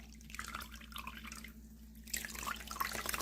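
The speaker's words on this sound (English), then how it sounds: "got some fresh water here." Fresh water running from a tap, a steady splashing trickle with drips that grows slightly busier near the end, close and fairly quiet.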